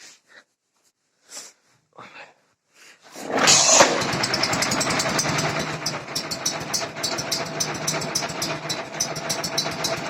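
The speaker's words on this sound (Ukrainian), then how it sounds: "хочу вам показати, як він заводиться з ножки" Small Prykarpatets mini tractor engine catching after a kick start, with a few short sounds before it, then settling into a loud, steady, rapidly pulsing idle close by.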